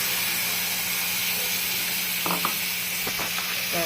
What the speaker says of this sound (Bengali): এবার আমি এই যে পোস্ত বাটাটা দিয়ে দিব, পোস্ত লঙ্কা বাটাটা দিয়ে দিব।